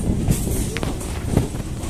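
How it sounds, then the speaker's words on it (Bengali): A crowded Budge Budge local train rolls along the line, its steady rumble and rattling wheels filling the space with a couple of brief squeaky accents, loud and close. "ট্রেন চলছে দেখতে পাচ্ছ বন্ধুরা।"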